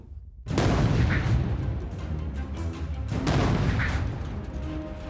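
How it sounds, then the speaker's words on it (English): Anti-tank guns firing during a WWII tank battle in France, heavy booming blasts and rumbling gunfire filling the scene, with two loud surges a few seconds apart over a continuous low battlefield roar. "we immediately came under fire by anti-tank guns"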